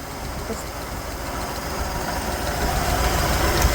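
A 1969 Chevrolet Chevelle engine runs steadily with a rough, broadband rumble that swells slightly toward the end, with no talk over it.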